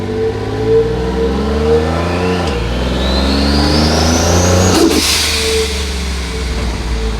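A car fitted with a manualized F4A51 automatic gearbox accelerates hard in first gear, the engine note climbing steadily, dipping briefly with a shift-like drop, then rising again, loud and close from inside the cabin.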